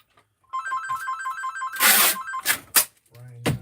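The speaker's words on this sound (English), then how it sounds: "phone." A telephone rings in a trilling electronic pattern, followed by loud clattering bumps and a short voice. Workshop setting.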